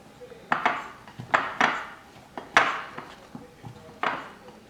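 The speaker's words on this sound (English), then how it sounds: "Then mix up and make a well for the wet ingredients." Dry pancake ingredients being mixed in a bowl, heard as a series of irregular clinks and scrapes of a utensil against the bowl, moderately close and without talk.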